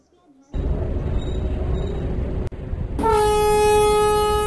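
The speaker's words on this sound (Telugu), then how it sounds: "ఓకే రైట్ ట్రైన్ బయలుదేరుతుంది." Train departing in the Indian Train Sim mobile game, a steady loud rumble of the moving train joined after a brief cutout by a long, sustained horn blast that continues to the end.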